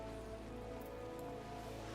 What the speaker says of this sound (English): Nope, just rain.